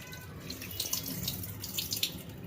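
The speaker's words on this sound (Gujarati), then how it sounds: "બધા બટેટાને આવી રીતે કટિંગ કરીને આપણે પાણીએ ધોઈ નાખીશું." Tap water splashes into a sink over cut potatoes being washed, a steady faint running stream with soft bursts of splashing and dripping.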